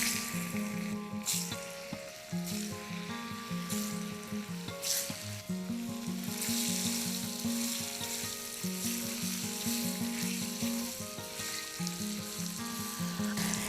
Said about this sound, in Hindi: गैस की फ्लेम को बंद करूँगी और इसके अंदर डाल दूँगी ये पनीर के क्यूब्स।